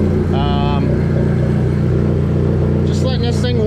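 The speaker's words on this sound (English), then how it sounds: "Get to hear this nice stock rebuild motor with some cams running again" A rebuilt stock motor with cams idles steadily and loudly, a dense low rumble throughout, with brief chirping sounds above it and a voice talking over the engine.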